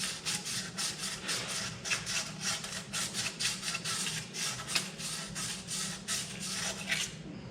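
Hand sanding of rust from a Farmall Super C tractor engine block: close, rhythmic back-and-forth abrasive strokes of roughly two per second, continuing steadily with no talking.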